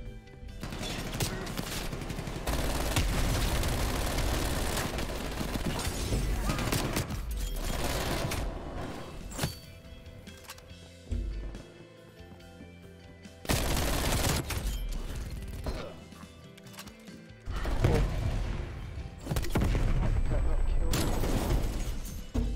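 Rapid bursts of gunfire and blasts in a shooter video game, loud and dense with short lulls between volleys, while players talk over the action.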